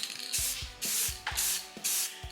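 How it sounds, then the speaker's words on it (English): An aerosol spray paint can hisses in about five strong bursts with short pauses, applying coats to the wheels of a Wheel Horse mud mower, close and loud with faint clicks of the nozzle. "immediately use your finger and wipe the run, and then just spray back over it again"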